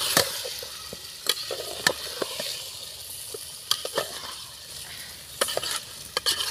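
Rice stirred into a spicy masala in a pan, a steady soft sizzle with scattered sharp scrapes and taps of the spoon against the pan, no voices.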